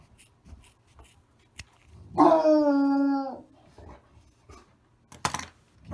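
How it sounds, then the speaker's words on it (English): A dog lets out a single clear, wavering howl lasting about a second, loud and near, set in a quiet indoor room with faint scattered clicks and shuffles around it. "sorry about my dog"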